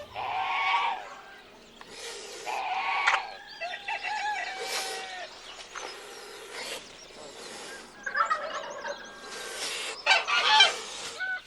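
Guinea geese honk repeatedly in a busy farmyard, the calls overlapping with clucks and other fowl noises in a noisy, continuous chorus.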